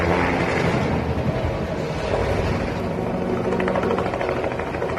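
A tourist helicopter lurching off balance just after takeoff in Colombia, its rotor and engine giving a steady loud roar with wind buffeting, no voices.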